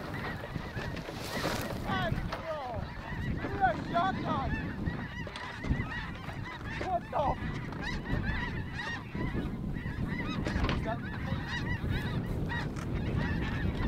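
A large flock of snow geese honks continuously overhead, with many overlapping calls at a fairly steady level against outdoor wind noise during a goose hunt over decoys.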